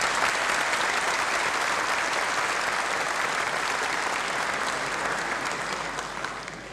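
Applause for a speaker at a religious debate hall: a large crowd claps in a dense, continuous roar, holding steady loud before gradually tapering near the end.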